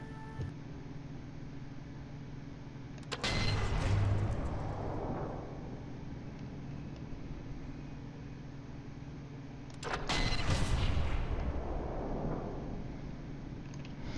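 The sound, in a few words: gunshots in the video game Sniper 4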